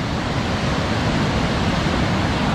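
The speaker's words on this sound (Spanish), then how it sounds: "se produce un sector de rápidos conocido como el Saltón del río Báquer" Baker River rapids at a narrow gorge, with a constant loud, dense rush of churning water and no breaks.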